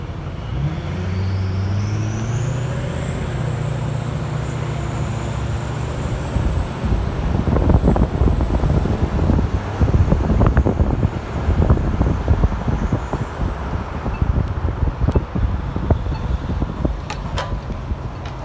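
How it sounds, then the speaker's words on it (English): A race car running a test lap at Daytona International Speedway, heard from outside as a steady distant roar blended with wind and road noise, swelling somewhat louder in the middle before easing, with no talk. "you can actually hear a car doing a test run on the"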